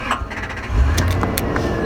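A hot 4x4 engine cranks and catches roughly, with a low rumble surging as it struggles to fire, then settles into a rough idle, close and fairly loud.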